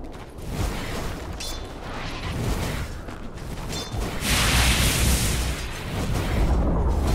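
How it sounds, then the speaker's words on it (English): Dota 2 match battle effects as the Radiant middle tower is destroyed, a dense rolling mix of explosions, booms and whooshes, with a loud crumbling burst swelling near the end and no voices. "Radiant's middle tower has fallen."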